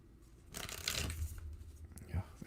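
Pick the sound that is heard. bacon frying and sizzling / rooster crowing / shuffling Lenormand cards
shuffling Lenormand cards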